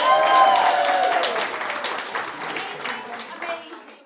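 An improv theatre audience at Grindstone Theatre applauds, a dense crowd clapping with cheers mixed in, loud at first and slowly fading over several seconds.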